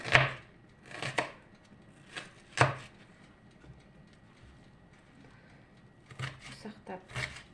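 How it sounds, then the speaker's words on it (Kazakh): Onions being finely chopped with a knife, heard as a few sharp cutting knocks spaced apart, then a quick cluster of chops, close and fairly quiet. "Осылай жуамызды ұсақтап турап дайындап қойдық."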